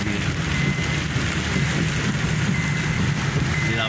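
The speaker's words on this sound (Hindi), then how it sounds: "बारिश का मज़ा आप लीजिए" Heavy rain pours steadily, a dense continuous hiss with low rumble, close and loud with no voices.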